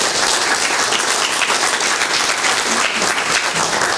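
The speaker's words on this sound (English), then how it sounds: "Please give them a round of applause." A room full of people at a chamber of commerce breakfast meeting applauds, dense steady clapping at an even level throughout with no voices on top.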